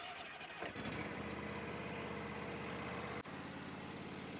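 A John Deere X350 lawn tractor engine cranks and catches, then runs at a steady, rumbling idle close up, with a brief dip partway through.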